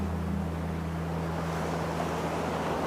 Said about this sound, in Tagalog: nakaka-relax yung tunog ng hampas ng mga tubig sa mga bato